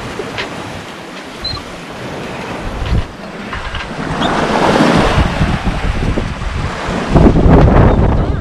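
Wind buffets the microphone in strong, rising gusts, roaring loudest near the end, with a wash of surf-like noise underneath and no voices, aboard a 28-foot sailboat crossing the Pacific in sunny weather.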